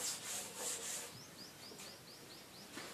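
Writing being rubbed off a classroom board during a Class 12 CBSE maths lesson on definite integrals: repeated close scrubbing strokes in an uneven rhythm, fairly quiet, with no one talking.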